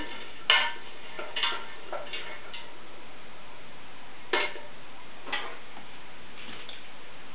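An onion being stirred in a pan with a spoon: a few sparse, light scrapes and clicks of the spoon against the pan, spaced out over a quiet background with no sizzle.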